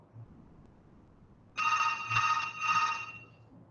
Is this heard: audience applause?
no